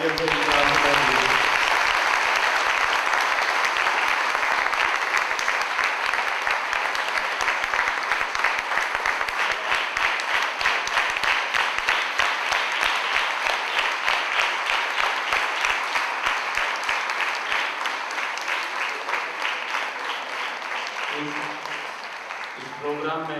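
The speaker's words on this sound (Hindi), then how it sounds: "जोरदार तालियों से आशीर्वाद दीजिए।" An audience at a Republic Day celebration at Dharmakshetra on 26 January 2014 claps loudly and steadily for about twenty seconds, a dense sustained applause that fades slightly toward the end, with brief voices at the start and close.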